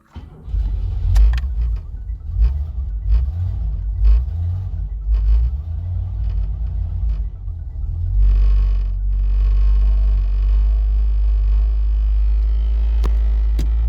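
A 1979 Opel Monza series 1 barn-find engine runs at idle with a loud, persistent rattle and low rumble, its note steadying and growing heavier partway through, with no talking.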